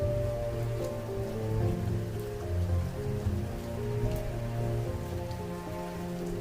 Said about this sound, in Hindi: बारिश और भी तेज हो गई